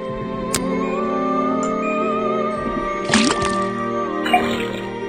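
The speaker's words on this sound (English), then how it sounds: "First thing we do is put the sample of liquid into the cauldron. Then tap the faucet." Liquid dripping from a faucet into a cauldron in the Detective Grimoire video game, a few distinct watery drips and splashes over a sustained musical game background.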